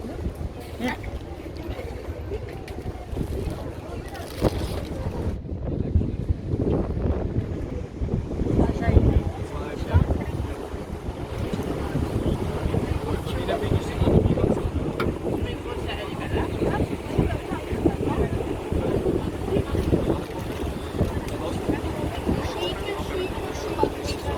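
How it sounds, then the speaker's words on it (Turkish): Strong wind buffets the microphone in heavy rumbling gusts throughout on a boat trip in Zürich, with faint voices and water-like noise underneath. "Çok rüzgar var."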